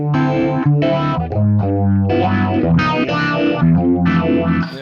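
Distorted electric guitar chords played through a sped-up univibe pedal give a fast, warbling, organ-Leslie-like swirl, loud and up close, with several chord changes and no talking.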